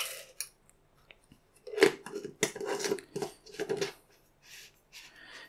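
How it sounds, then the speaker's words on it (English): A coffee scoop digs into medium roast coffee beans, with several short bursts of dry rattling and clicking separated by near silence, close and fairly quiet. "Got some nice medium roast coffee beans here, and my coffee scoop, which gives me an exact amount of beans."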